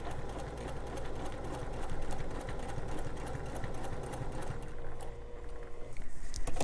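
A sewing machine quilts a placemat, its needle running in a fast, even mechanical patter close by, slowing and pausing near the end before starting up again, with no talk.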